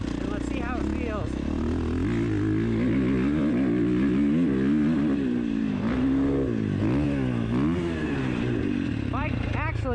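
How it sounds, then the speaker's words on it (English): A 2019 Husqvarna FC 450 motocross bike ridden with traction control on a non-aggressive map, its engine loud and close, revving up and down in repeated rising and falling surges. "let's test the bike on traction control. So I'm hitting traction control, non-aggressive map, and let's see how it feels"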